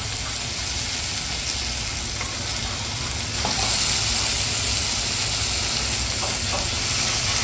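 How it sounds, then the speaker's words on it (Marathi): Prawns sizzle steadily in hot oil with homemade Malvani masala, a close, continuous frying hiss with occasional stirring and no talk. "चांगली तेलात परतून घेऊ"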